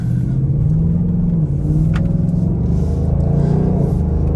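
A 2021 Ford Mustang Mach 1 with the handling package cruises on light throttle, its engine a steady low rumble with a brief dip as the 10-speed automatic shifts, heard from inside the car with no talking.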